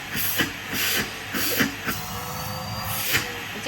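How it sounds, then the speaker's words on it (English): Henry Hoover vacuum cleaner running with a steady whooshing suction drone that rises and dips in pulses as the nozzle moves, close by. "Oh, you're testing the suction."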